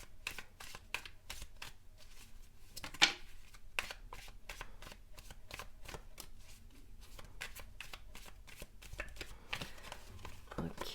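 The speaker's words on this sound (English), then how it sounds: "now the last shuffle, you guys" Tarot cards being shuffled by hand in repeated quick riffling bursts, crisp papery flutters recurring throughout with one sharper snap near the start, close and fairly quiet with no talking.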